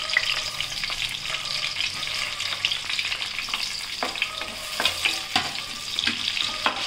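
Onions and green chilies sauté in a pan for crab gravy, giving a steady close sizzle broken by occasional scraping stirs.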